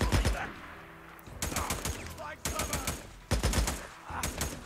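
Gunfire in the Days Gone video game, repeated bursts of rapid automatic shots in several loud volleys separated by short pauses, close and punchy.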